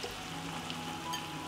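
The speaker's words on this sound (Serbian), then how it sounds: "Na propržen luk dodajem meso" Meat added to fried onions in hot oil, sizzling quietly and evenly for a brief moment with no voices.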